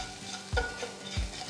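Onions fry in a pan with turmeric and salt, a steady low sizzle broken by two distinct scraping stirs of the spoon about half a second apart, close and fairly quiet.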